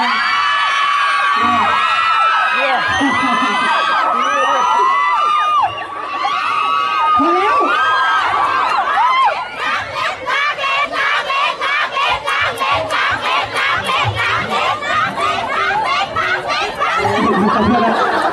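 A large crowd at a concert in Roi Et, Thailand shouts a short rhythmic cheer, loud and dense with whoops, chatter and repeated chanted bursts filling the whole stretch.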